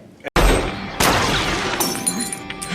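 Glass shatters in one loud, sharp crash that is followed by a tinkling spray of falling shards, then a second crash and scattering pieces trailing off.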